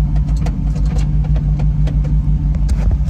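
A Jeep with a V8 swap, shifted into four-wheel drive, maneuvers off-road around a tree, its engine a steady, loud, close rumble with no pauses and no voices.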